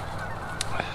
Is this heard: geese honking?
yes